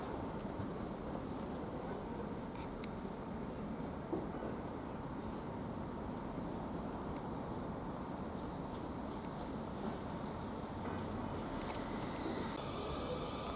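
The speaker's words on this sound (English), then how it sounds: "Now we get this train now moving" A train moving through Basingstoke railway station, a faint, steady rumble heard from a distance with a few brief clanks, and no voices.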